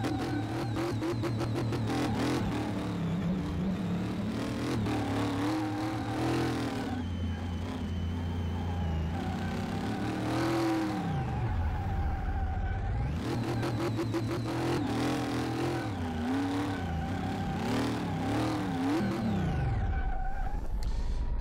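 A Hot Wheels Boneshaker car engine in Car Mechanic Simulator 2018 revs up and down repeatedly, loud and close, with rising and falling whines between full-throttle bursts and no talking over it.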